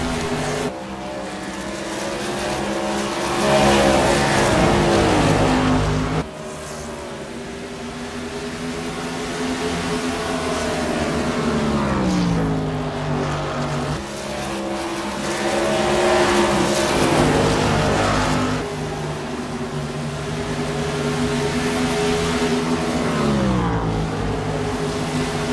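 Sportsman-series race cars running laps on a track, their engines droning loudly and continuously with rising and falling pitch as they pass and shift, a commentator talking over the engine noise.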